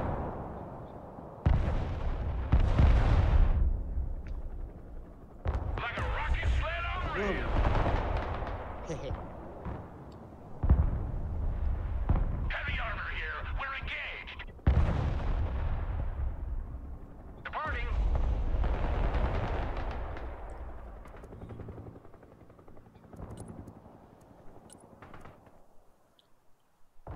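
Heavy artillery bombardment in the Broken Arrow war game: repeated loud, booming blasts and explosions, several big impacts rolling into rumbling debris, with a voice talking over the barrage.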